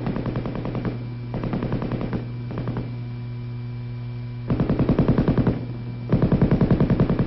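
An M60 7.62 mm belt-fed, gas-operated machine gun firing in rapid bursts, several strings of fast shots separated by short gaps, over a constant electrical hum from an old 1960s recording.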